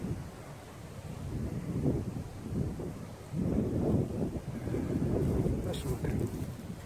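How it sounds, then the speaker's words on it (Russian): Gusty wind rising outdoors on the grounds of an abandoned Soviet garrison bread factory, a steady low rumble of buffeting against the microphone that swells in heavy surges, loud and close throughout with no voices. "Ветер поднялся."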